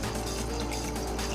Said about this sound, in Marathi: पाणी टाका